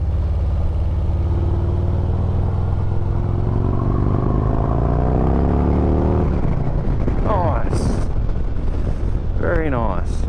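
A deep 2025 Harley-Davidson Road Glide engine revs up and winds down under talking, then sharp crackles and pops burst from the untuned exhaust as the throttle drops.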